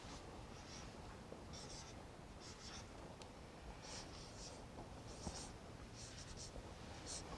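Marker or pen scratching out a label on a food container in a classroom lesson, with repeated short writing strokes in bursts over a steady background hiss.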